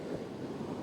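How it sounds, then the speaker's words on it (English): Pacific Ocean waves rolling onto the shore along the northern California coast, heard as a steady, broad wash of surf with wind blowing across the microphone, continuous and without voices. "there is just one thing that the Pacific Ocean has over all of those, and that's the sound of the rolling waves"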